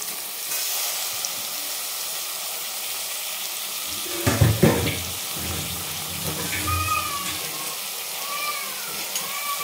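Food hits a hot pan and bursts into loud sizzling, then settles into steady frying with occasional stirring.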